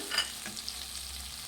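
Capsicum chitranna fries with grated coconut in a pan, a continuous soft sizzle with a brief stirring scrape near the start, close and fairly even.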